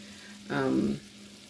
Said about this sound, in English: once the butter is melted, and as you can see, it is warming up here and everything